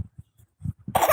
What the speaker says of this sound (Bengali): কাশিও হয়েছে আবার